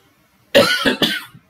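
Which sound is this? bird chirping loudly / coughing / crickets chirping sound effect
coughing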